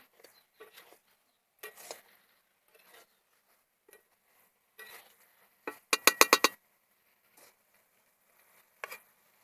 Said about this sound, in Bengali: ভেজে রাখা চিংড়ির সঙ্গে ইঁচড়টা ভালো করে কষিয়ে নেব।